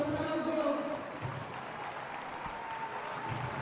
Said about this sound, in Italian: che salutiamo con un applauso